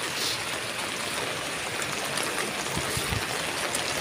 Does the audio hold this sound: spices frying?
no